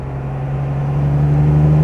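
A 1955 Mercedes 300 b Cabriolet with a 3-litre six-cylinder engine pulling steadily, a smooth low hum that swells slightly in loudness, heard from inside or close by with no talk.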